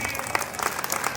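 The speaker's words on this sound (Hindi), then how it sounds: "जोरदार तालियां बजा दीजिए।" Audience applause at a school annual function, clapping for a children's performance; a steady wash of hands with some sharper claps standing out, close and fairly full, with a voice faintly underneath.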